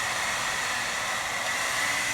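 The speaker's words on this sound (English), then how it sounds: "you want to go as high as you can on your hair dryer" A hair dryer on its highest setting blows steadily onto melted crayon wax on a board, a loud, continuous broadband whoosh with no breaks and no voices.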